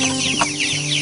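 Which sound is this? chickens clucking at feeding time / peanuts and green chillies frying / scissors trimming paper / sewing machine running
chickens clucking at feeding time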